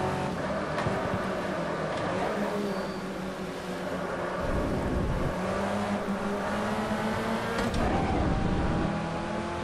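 A boxy VW Gol race car in the racing game Automobilista at Curitiba circuit, its engine revving hard and climbing through gears with steady loud in-cabin drone and brief shifts.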